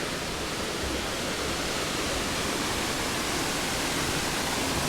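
Steady, loud rushing water, a broad continuous roar of a fast river flowing close by in a bamboo forest on Hawaii's Pīpīwai Trail, with no pauses.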